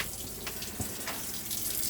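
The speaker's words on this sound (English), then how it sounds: "we've got water running out of the taps continuously on board the caravan" Water runs steadily from the taps inside a 2018 Sprite Major 4EB caravan after the onboard water pump is switched on, a soft continuous splash and hiss at low level with no voices.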